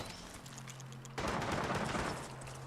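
Gunfire in the video game Fallout 4 at night against Mirelurks: a faint background scene that abruptly swells into a dense rattling burst of shots for about a second, then settles back down.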